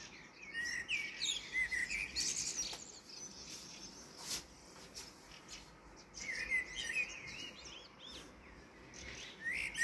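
A blackbird sings melodious phrases at a moderate distance, repeating in bursts over a soft outdoor background with faint chirps.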